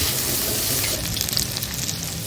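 Onions sizzle and fry in a pan at the start of a chicken gravy, a steady, close crackling hiss throughout, with a few sharper pops near the end and no talking.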